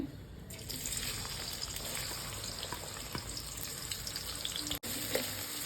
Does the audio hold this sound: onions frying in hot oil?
yes